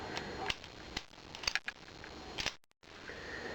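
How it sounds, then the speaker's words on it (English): M1911 semiautomatic pistol during reassembly as the bushing is rotated and the plug locks into place, giving a few sharp metallic clicks and snaps close up over faint handling noise, followed by a brief silence. "Rotate the bushing counterclockwise until the plug locks into place."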